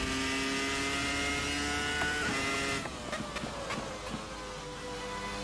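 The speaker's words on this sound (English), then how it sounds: "Old 2000s Formula 1 car." A 2000s Formula 1 car engine in Assetto Corsa screams at high revs as a steady harmonic whine, then eases off into quieter, burbling downshifts and blips, close and alone with no talk.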